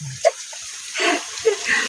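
Someone splashing about in water, a few short close splashes and sloshes separated by quiet gaps, with a brief burst of vocal sound near the start.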